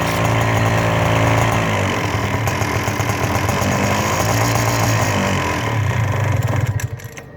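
A Sky100 paramotor engine runs loud and close with a steady buzzing drone, then winds down near the end.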